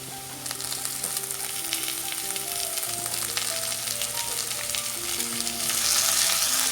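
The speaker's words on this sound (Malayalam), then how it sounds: "ഇനി ഇതിലേക്ക് തക്കാളി ചേർത്ത് കൊടുക്കാം." Chopped tomato added to sautéed onions in a pan for a Kerala mutton roast sizzles and fries steadily, with stirring scrapes and a crackle that swells toward the end; no talking.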